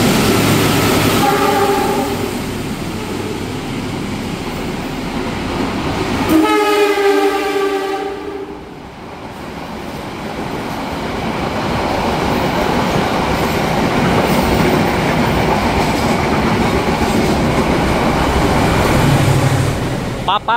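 A train horn sounds, then the Malioboro Express passenger train's railcars rumble steadily past close by at Purwosari station with rhythmic clacking, the noise carrying on for a long stretch.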